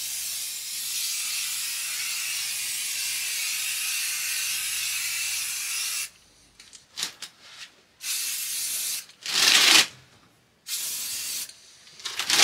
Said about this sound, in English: let's get these set up and spray paint them